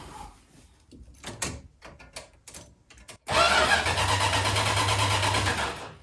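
A mural-painted van with rusted pulleys under repair cranks and catches, its engine starting after some clunks and door-like knocks, then settling into a loud, steady close idle for several seconds.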